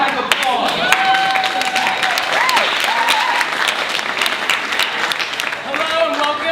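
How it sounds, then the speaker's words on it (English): Audience applause fills the room, dense and sustained clapping from a crowd at a comedic show, with a few whoops and voices rising over it before it tapers slightly near the end. "A warm round of applause."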